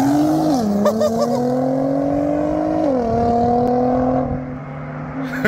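A BMW M135i xDrive pulls away from a rolling start, its engine note climbing steadily in pitch through two gear changes, loud and close, then easing off near the end.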